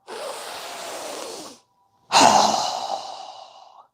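A fast, strong exhale through the mouth during yoga breathing, a breathy rush of air that stops, then after a short silence a second forceful outbreath that bursts loud and slowly fades, close and with no talking.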